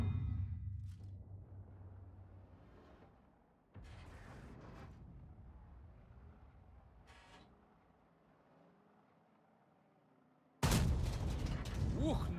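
A sudden, very loud tank cannon blast in World of Tanks near the end, broad and booming, after quieter mechanical rumbling and clanks.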